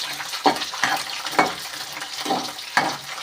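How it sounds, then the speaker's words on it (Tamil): Garlic and fresh green curry leaves frying in hot oil for a tamarind kuzhambu, giving a steady close sizzle broken by several bursts of crackling as they are stirred, with no voices. "கருவேப்பிலை, நல்லா பச்சை கருவேப்பிலை எண்ணெயில் எப்படி பொரியுது பார்த்தீங்களா?"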